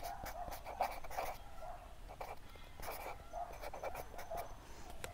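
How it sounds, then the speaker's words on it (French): A pen scratches across paper while someone writes their own name beneath a simple stick-figure drawing, leaving a close, quiet run of short strokes with small pauses between them. "J'écris mon nom en dessous."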